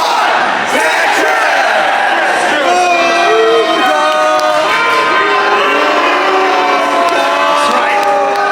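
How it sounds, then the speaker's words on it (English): A crowd at a Classic Tetris grand final at a gaming expo roars and cheers, with whoops and shouts layered over a sustained loud din that carries through the whole stretch. "That's what we want to hear the crowd really into it here."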